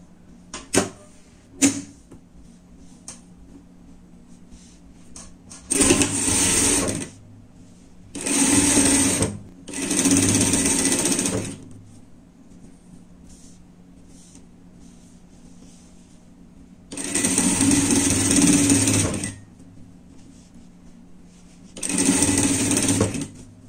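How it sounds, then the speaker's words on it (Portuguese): A sewing machine stitches a seam through the lining of a lined pet jacket in five loud bursts of a few seconds each, with quiet pauses between and no talk. "Vamos passar uma costura aqui."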